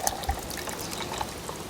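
A gin cocktail strained into a Collins glass over partly melted ice, a soft close trickle of liquid with faint clinks of ice, no talking.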